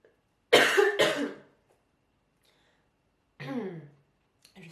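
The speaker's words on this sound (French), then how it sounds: "j'ai une toux et du coup, c'est pas très intéressant de me voir tousser" A woman coughs in a quiet room, two harsh bursts close together, then a pause and another single cough, with near silence between them.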